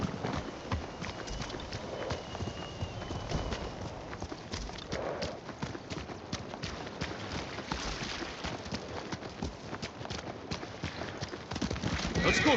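Horse hooves clip-clop steadily on the ground in the video game Ghost of Tsushima, a continuous walking rhythm at moderate volume with faint background ambience and brief speech.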